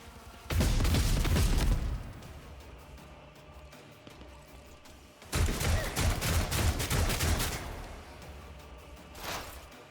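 Gunfire and stun grenades in the Warhammer 40K Rogue Trader video game come as two loud dense bursts of rapid shots and booms, with a quieter stretch between them and a softer burst at the end.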